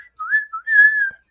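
A whistle blows in the distance: a short rising note, a brief second note, then a longer held tone, clear and alone.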